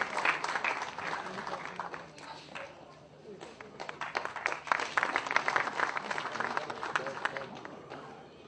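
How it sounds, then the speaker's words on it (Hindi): An audience at an Akhil Bharatiya Kshatriya Samaj community gathering claps loudly to welcome a speaker, a dense, sustained burst of applause from a large crowd that swells near the end. "प्रभाकर सिंह जी का जोरदार तालियों से आप स्वागत करें।"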